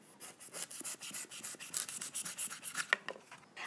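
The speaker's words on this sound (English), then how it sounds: "using the cleaver, I'm going to shave off the outer layer of the cone" A cleaver shaves the outer white layer off a young coconut lying on its side on a cutting board, giving a steady run of close, dry rasping strokes, one after another, each a short scrape.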